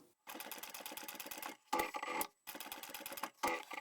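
A sewing machine stitches diagonally across layered bag fabric in rapid, rhythmic bursts of clattering needle strokes, close and clear, with short pauses between runs.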